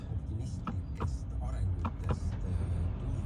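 The electric power window of a VW ID7 car runs with a continuous motor whir, broken by a few sharp clicks inside the cabin.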